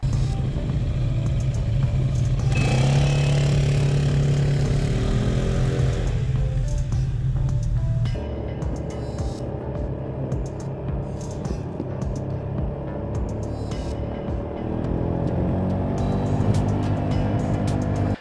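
The 300cc engine of a Yamaha Tricity 300 three-wheeled scooter idles and revs with a steady low rumble, swelling louder for a few seconds before settling back into a constant hum.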